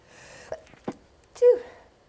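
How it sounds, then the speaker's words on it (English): A suppressed, held-in sneeze comes out as a few short stifled bursts and a brief strained moaning squeak, faint and close, with no talking around it. "That was a strange sneeze."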